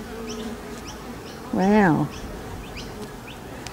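Bees buzz steadily and fairly close during the removal of a beehive from a palm tree, with a brief exclamation from a person rising over the hum midway.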